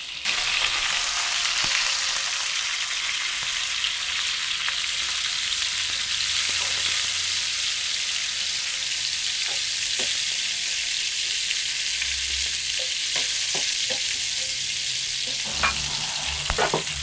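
Cassava frying in coconut oil in a pan for a Sri Lankan mallum dish, a steady loud sizzle with occasional pops and stirring scrapes throughout.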